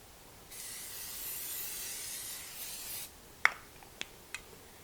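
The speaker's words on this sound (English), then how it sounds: "I'm going to spray it with some cooking spray" A single steady hiss of cooking spray onto a 9x13 baking dish lasting about two and a half seconds, followed by a few light clicks and taps, close and fairly quiet.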